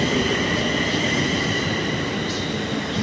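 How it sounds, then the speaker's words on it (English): A train bound for London Euston pulls into a station with a loud, continuous rumble of wheels on rails and a faint high squeal running through the steady roar. "that train's coming in again."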